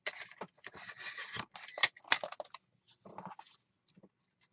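Scissors snip through paper or card during a mixed media craft session, giving close, crisp cutting and rustling bursts in quick clusters with short pauses between.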